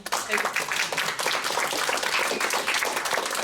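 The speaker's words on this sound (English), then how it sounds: "But let's one more round of applause for our two" Dense applause from a panel discussion audience, loud and continuous, with overlapping claps filling the whole stretch.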